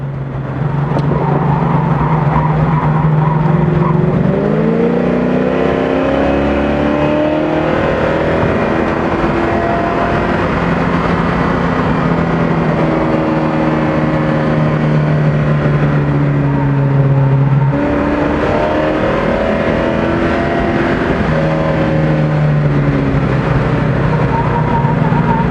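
A Ford Fairmont race car laps High Plains Raceway, its engine droning loudly from onboard, climbing through the revs, dropping at gear changes and braking, then pulling hard again over a long continuous run.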